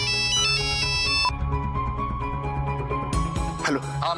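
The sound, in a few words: mobile phone ringtone ringing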